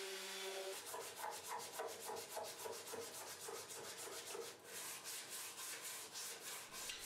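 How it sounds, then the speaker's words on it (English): Wood being sanded by hand on a toy pop gun, a steady run of close, rhythmic scraping strokes repeating back and forth with no talk. "finally I do a bit of hand sanding"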